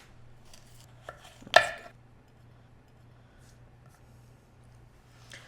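A knife cuts the green leaves off a cauliflower, giving a few crisp snaps and one sharp chop against a board, close and otherwise quiet with a low hum beneath.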